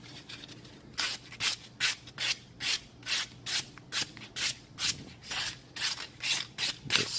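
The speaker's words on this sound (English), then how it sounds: "You really want to get a super fine grit sandpaper. This is 220 that I'm using right here. And just very lightly going over it." Light hand sanding of peeling bonded leather with fine 220-grit sandpaper: about a dozen soft, rhythmic rasping strokes back and forth, close up and steady, with no talking.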